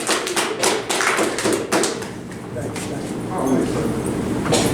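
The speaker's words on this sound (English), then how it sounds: "Clap it up for Mr. Mercer, everybody, all the way from Saginaw, Michigan. Put your hands together." Audience at a poetry slam at Hoffman's Deli in Flint, Michigan, breaking into clapping and taps, bursts of applause rising and falling under a host's voice.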